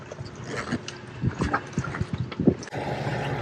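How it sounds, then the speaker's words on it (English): Wind gusts buffet a sailboat, flogging the sail in irregular loud flaps and thumps over a steady background of wind noise, fairly close. "that wind got directly on our nose, which just was flogging the sail too much"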